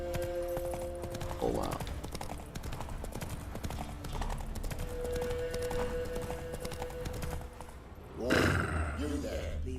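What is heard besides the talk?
horse Roach's hooves clip-clopping in video game Witcher 3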